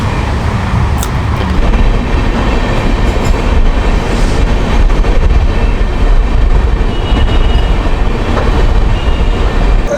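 Shatabdi Express train running on rails, a steady loud rumble and rattle of carriage wheels throughout with a faint clickety-clack, heard from inside the executive-class coach with no talking.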